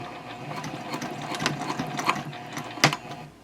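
A sewing machine back stitches slowly over a handbag seam with a piping foot, a quiet rapid mechanical ticking of needle and gears running continuously with a sharper clack near the end.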